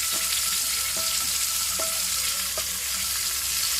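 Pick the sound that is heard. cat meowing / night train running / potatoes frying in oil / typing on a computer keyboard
potatoes frying in oil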